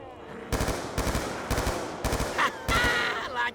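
Rapid bursts of video game gunfire during a double-points round, five loud clustered volleys about half a second apart, with brief whistling effects near the end.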